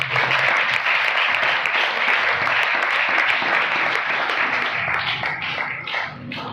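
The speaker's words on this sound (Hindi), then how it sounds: "वहां पे, खड़ी हो, जोरदार तालियां दें" A congregation at a Hindi-language healing prayer service gives loud, sustained applause, a thick continuous roar of clapping that holds steady and then eases slightly toward the end.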